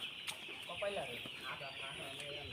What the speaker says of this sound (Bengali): এইটার মধ্যে ব্রয়লার মুরগি